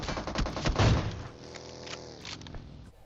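Gunfire in a battle royale shooter game: a loud burst of several close shots in the first second, then a quieter ringing tail and faint background game noise.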